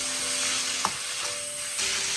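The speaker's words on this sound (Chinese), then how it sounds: "再把瘦肉给加进来，开中小火快速的翻炒" Lean pork is stir-fried in oil over medium-low heat in a wok, giving a steady, even sizzle up close with one brief spatula knock partway through.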